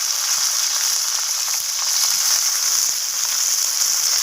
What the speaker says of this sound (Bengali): এখন আমি উচ্ছেগুলোকে দিয়ে দিলাম। তো এগুলোকে একটু লালচে লালচে করে ভেজে নেব।